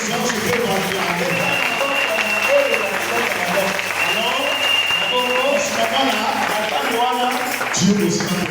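Church congregation applauding steadily throughout, a dense continuous wash of clapping with voices and talk mixed in underneath.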